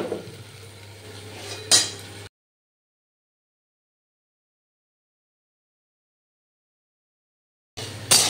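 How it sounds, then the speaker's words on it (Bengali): A lid is set down on a pan of ivy gourd cooking in a home kitchen: one sharp metallic clink over a low stove hum, followed by a stretch of dead silence. "আমি ঢাকনাটা দিয়ে দিলাম।"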